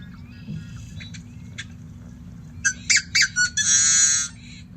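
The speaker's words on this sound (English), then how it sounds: "So that's the one that's very raspy" Yellow-headed blackbird calls: a few faint, thin clicks and whistles, then a close series of sharp raspy squawks ending in a long, harsh buzzing screech over a low steady background hum.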